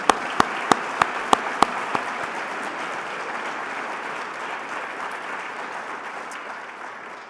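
A luncheon audience breaks into sustained applause for an award recipient, opening with several sharp, close claps before settling into a steady wash of clapping that slowly fades.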